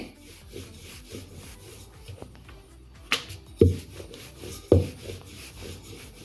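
Cheese shankarpali dough being rolled thin with a rolling pin, flipped back and forth, giving soft wooden rubbing strokes with three sharper knocks near the end, close and fairly quiet.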